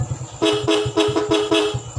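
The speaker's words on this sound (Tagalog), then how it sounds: "Next is horn." A motorcycle horn honks in a series of short beeps, about five quick toots in a row, loud and close.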